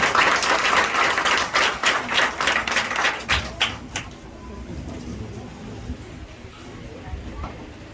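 Audience applause at a school graduation ceremony: dense clapping from many hands fills the first few seconds, then thins into scattered claps and fades to quiet room tone.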